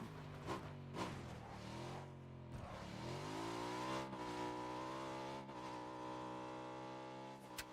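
A car driving in the battle-royale game PUBG, its engine droning steadily with rising revs and shifting pitch as it accelerates, fairly close and continuous with no talking over it.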